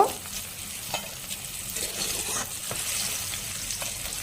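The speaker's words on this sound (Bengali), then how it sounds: "এবার উচ্ছেটা ভালো করে ভাজা হয়ে গেছে" Bitter gourd frying in hot oil, a steady bright sizzle with occasional scraping stirs, close and continuous throughout.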